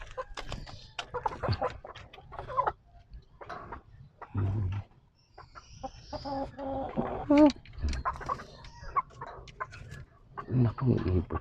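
A Black Kelso hen clucks and makes short squawking calls close by, mixed with a person talking intermittently and some handling noise.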